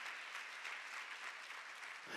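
A church congregation at a worship service claps together, a dense, continuous burst of applause at steady volume that fades slightly at the end.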